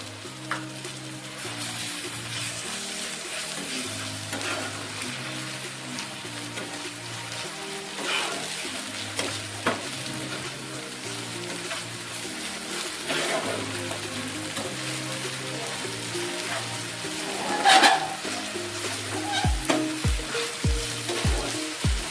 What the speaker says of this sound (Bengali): রসুন গন্ধ চলে গেলে এরপর হলুদ গুঁড়ো দিয়ে খুব ভালোভাবে ভেজে নেব